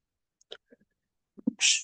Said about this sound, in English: see how I just sneezed?